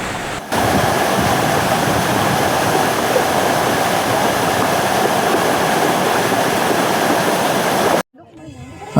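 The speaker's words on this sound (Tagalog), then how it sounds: "Meron din kasing waterfalls." A waterfall in the Philippines roars steadily and loudly for about eight seconds before cutting off abruptly, leaving brief quieter ambience.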